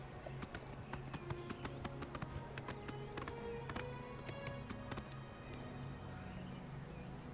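Steady clip-clop of horse hooves trotting at an even rhythm in the video game Oblivion, close and alone, over a faint background hum.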